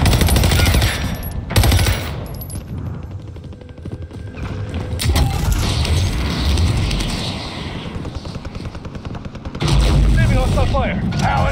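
Rapid automatic gunfire and explosions fill a Call of Duty Warzone Pacific battle on the Caldera map, loud and close with bursts of shots and booms. In-game voices call out over the shooting.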